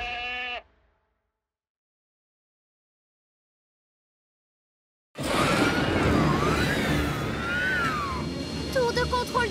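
A goat bleats on a farm, loud and close, in a long wavering call after a brief earlier cry and a stretch of silence.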